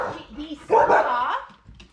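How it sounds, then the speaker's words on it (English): A dog lets out a single short bark up close, with some whimpery vocal sounds around it and a voice nearby. "It's still elicited a bark."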